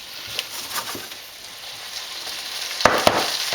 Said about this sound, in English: just let it simmer for a bit, keep stirring it until it heats up